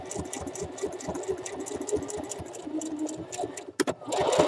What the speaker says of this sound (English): I'm going to just start sewing